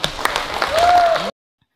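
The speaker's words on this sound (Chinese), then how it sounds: "大家鼓掌一下好吗？" Crowd applause at a Xiulin tribal meeting, a broad burst of clapping lasting just over a second with voices mixed in, then cutting abruptly to silence.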